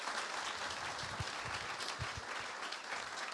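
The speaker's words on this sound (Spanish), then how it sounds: "Damos un fuerte aplauso a Marisol" Steady applause from a church congregation at Iglesia Sion in Barakaldo, welcoming a first-time visitor; dense, even clapping fills the room throughout with no one speaking.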